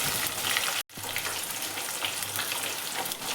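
Onions and green chillies fry in hot oil for tomato rice, a steady close sizzle with a brief dropout early on and no talking.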